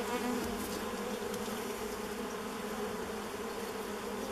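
Bees and yellow jackets swarm around an old beehive left unopened for over 30 years, a dense, steady, close buzzing drone that holds throughout with no voices.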